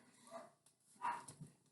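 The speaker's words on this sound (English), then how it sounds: "Those dogs need to be shut up." Dogs bark faintly in the distance, giving two short bursts of barking against a quiet background.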